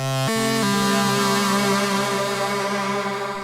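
A modular synthesizer, played from a T12 Dobos used as a keyboard, plays a few quick notes that settle into one sustained, buzzy tone, steady and loud with no voices.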